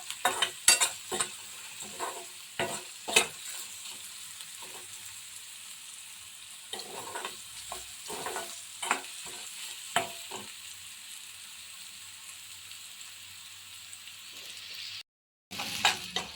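Onions fry in oil in a pan with a soft sizzle punctuated by scattered clinks and scrapes of stirring, fairly quiet and close, with a brief dropout near the end.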